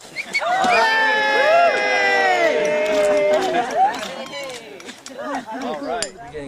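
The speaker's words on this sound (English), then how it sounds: "Okay, come on and cheer." A small group cheers at a groundbreaking for a Passive House affordable housing project, sustained whooping and shouting voices held for a few seconds, near and loud, then trailing into scattered chatter.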